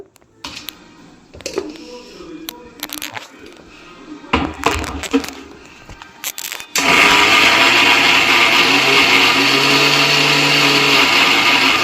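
A mixer grinder blending a homemade mehndi hair pack starts after a few knocks and clatters and then runs as a loud, steady whirring drone to the end.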